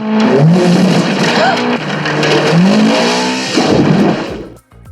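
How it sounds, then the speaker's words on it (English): A Lotus sports car from a Roger Moore James Bond film, its engine revving and accelerating loudly up close. Rising whines break off near the end, with a brief tire-skid texture. "But the main one is the car, and that's the Lotus."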